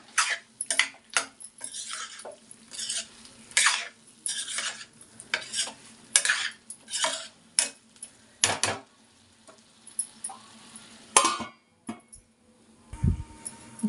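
Masala for a prawn curry fries in a pan while a spoon stirs it, giving repeated scraping strokes and light clinks over a soft sizzle, close up with no talk.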